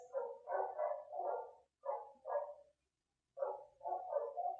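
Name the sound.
dogs barking nearby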